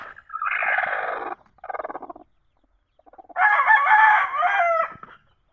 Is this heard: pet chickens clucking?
yes